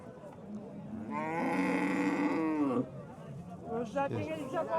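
At an Andijan cattle market selling Swedish and Simmental cows, a cow gives one long, loud, drawn-out moo nearby while a crowd murmurs and people talk in the background.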